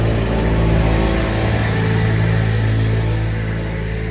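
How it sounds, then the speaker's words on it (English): A small, buzzy lawnmower-type engine on a passing vehicle drones loudly and steadily nearby, with a low rumble running underneath throughout. "It's got some sort of lawnmower engine on it."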